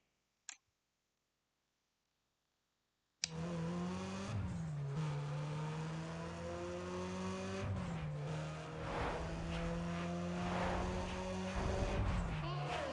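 Race car engines in the video game Need For Speed ProStreet roar loud and continuous after a moment of silence, with revs climbing and dropping through gear shifts and scattered clicks and impacts.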